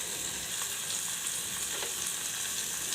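Whole cloves and star anise fry in hot oil in a pan, a steady close sizzle and crackle running the full length with occasional small pops, no voices.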